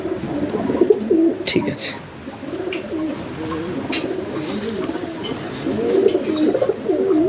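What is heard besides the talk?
pigeons cooing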